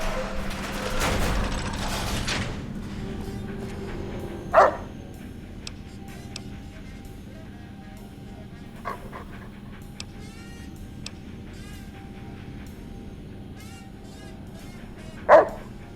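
Dog companion in the video game Fallout: New Vegas, barking in a few sharp, spaced bursts over a steady low game hum, with a louder rush of noise near the start.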